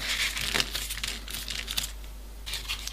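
Paper crinkles and rustles in short, close, quiet bursts as it is folded into small pieces for a 3D origami mini panda.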